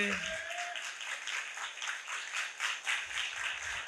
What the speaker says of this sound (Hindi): आइए यीशु नासरी के लिए जोरदार तालियां बजाएं